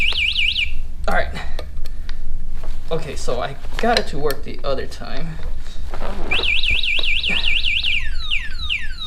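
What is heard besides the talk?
alarm going off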